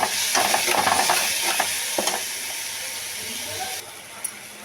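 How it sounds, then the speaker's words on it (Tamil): Ridge gourd chutney ingredients sauté in a hot pan with a loud, hissing sizzle and scraping stirs early on. The sizzle then settles into a softer, steady fry. "வதங்கட்டும்"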